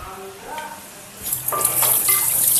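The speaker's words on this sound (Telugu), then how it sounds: "మటన్ ఒకసారి కడుక్కుంటాను." Mutton being washed under a kitchen tap: a quiet start with faint clinks, then a sudden loud, steady gush of running water splashing into a sink, close by.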